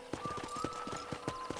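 Horse hooves clip-clop steadily in the Red Dead Redemption video game, a close, regular rhythm of hoofbeats at a trot over a soft tonal background, with no voices.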